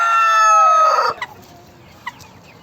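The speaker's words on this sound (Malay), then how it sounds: "Dia tengok banyak ayam ni." A rooster crows loudly and close at a poultry farm in Jempol, Negeri Sembilan, then a couple of short clucks and faint bird sounds follow in a quieter background.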